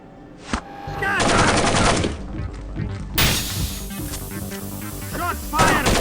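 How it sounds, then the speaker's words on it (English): Automatic gunfire in the stealth action video game Splinter Cell, sustained loud bursts of rapid shots starting after a single sharp crack, with shattering impacts and a later second volley, no talk. "Shots fired!"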